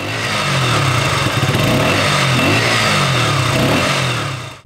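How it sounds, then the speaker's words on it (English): Close, loud revving from a KTM 125 Duke fitted with an IX Race aftermarket exhaust, the engine held high with repeated throttle rises and falls for several seconds before fading out at the end. "Second, IX Race exhaust."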